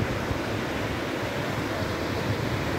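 Sea surf off the coast near Heraklion, Crete, a continuous broad wash of waves mixed with wind rumble against the microphone, steady and fairly loud with no voices.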